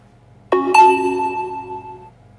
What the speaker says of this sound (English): Your phone's beeping.